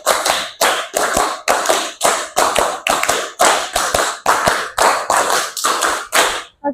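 A classroom of students claps in a counted pattern, producing about a dozen loud, sharp bursts of group clapping separated by brief pauses in a lively, rhythmic sequence.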